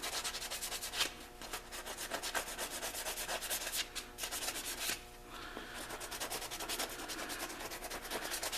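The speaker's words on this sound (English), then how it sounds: "Just scuff it up a little bit so that it's not glossy anymore." Someone hand-sands the painted roll cage of a Jeep Wrangler, scuffing off the gloss. The rough scratching strokes come close and continuous, with brief pauses between passes and no talking.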